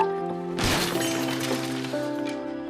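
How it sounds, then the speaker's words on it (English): A radio smashed indoors, a sudden loud crash with shattering, breaking debris that rings out and then tapers off over a steady background tone, with no talk. "Bill directly smashed the radio."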